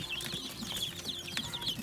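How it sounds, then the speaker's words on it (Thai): Young guinea fowl chicks about two weeks old on a farm, a continuous chorus of high, thin peeping calls layered close together, with low rustling and shuffling underneath and no talk. "ไก่ต๊อกนะครับ ไก่ต๊อกน้อยครับ"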